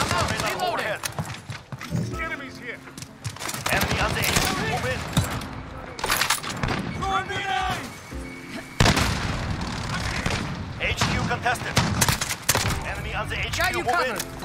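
Call of Duty: Modern Warfare gunfire crackles in rapid bursts and booming shots, with gaps between volleys. A player talks over much of the shooting.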